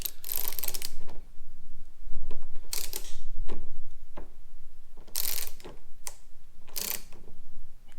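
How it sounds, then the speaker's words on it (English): A hand ratchet tightens a bolt on a Chrysler 300S Hemi grille during a wicker bill install, giving several short bursts of close, crisp clicking separated by brief pauses. "we're going to hold it here and then just ratchet."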